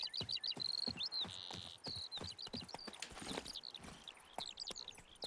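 Roach the horse gallops in The Witcher 3 game, with rapid rhythmic hoofbeats close by over a bed of chirping birds and insects.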